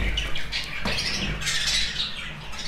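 Budgerigars in a cage chirp and squawk in quick, overlapping bursts, fairly close, with light rustling and fluttering between calls.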